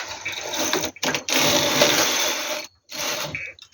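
A knitting machine knitting a baby hoodie jacket, its carriage rasping and whirring loudly across the bed in close passes separated by short pauses, with no talk.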